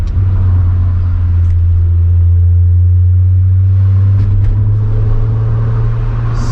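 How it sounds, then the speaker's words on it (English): A Volkswagen Golf VR6 engine drones steadily while driving on a road, a loud, constant low rumble with no squeaks and no talk, heard from inside the car. "just now it's just VR6 sounds"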